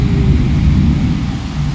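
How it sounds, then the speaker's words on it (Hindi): Heavy monsoon downpour with thunder, heard as a steady, deep, loud rumble that holds for nearly two seconds without voices. "बहुत तेज बारिश हो रहा है।"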